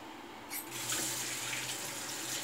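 Tap water runs steadily into a sink during a wet shave with a Rockwell 6S razor, a continuous close hiss that starts after a brief quiet moment and carries on alone.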